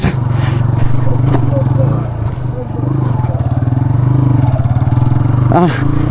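A motorbike climbs a hill road to Parvathamma hill in Hassan, Karnataka, its engine thrumming steadily and loud up close with rattling and wind, while someone talks over it.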